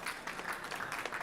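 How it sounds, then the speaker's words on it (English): At a COP29 panel session, the audience claps for the panelists in a short, soft burst of applause heard from a distance. "If we could give another round of applause."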